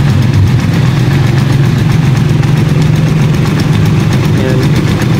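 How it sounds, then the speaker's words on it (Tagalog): A Rusi Chariot 175 tuk-tuk engine idles steadily, with a continuous low rumble and vibrating mechanical buzz that holds close and loud throughout. "kung mapapansin nyo yung makina natin pag umaga medyo magalaw talaga yan, ma-vibrate"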